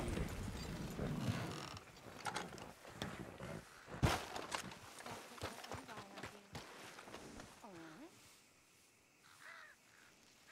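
A horse in the Red Dead Redemption 2 video game, with hooves clip-clopping along near an abandoned town while crows caw; someone talks over the first part, then it quiets.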